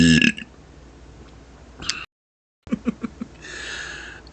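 Loud, close burps in a burp remix of a country song: a strong burp, lower rumbling, a brief silence, then a quick run of short burps and a longer drawn-out one.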